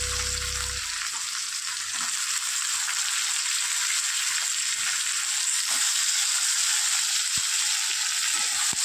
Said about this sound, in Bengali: তো চলুন আলুটাও একটু ভেজে নিই।